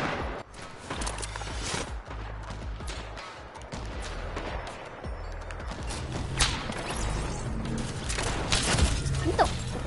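Gunfire from a video game crackles in dense, continuous bursts across the whole stretch, moderately loud, with heavier thumps near the end and a low mechanical hum underneath.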